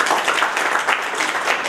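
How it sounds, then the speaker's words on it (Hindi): An audience breaks into loud, sustained applause, with dense continuous clapping filling the room at a steady level. "चलो जोरदार ताली।"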